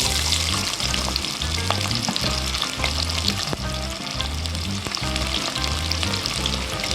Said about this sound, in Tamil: உளுந்து பருப்பு சேர்த்துக்கலாம். வெங்காயம் சேர்த்துக்கலாம்.